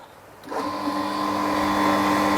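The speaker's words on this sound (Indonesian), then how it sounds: "Kita nyalakan pompa." A household water pump kicks on after a short quiet stretch and keeps running with a steady, loud electric hum and whine, close by and alone.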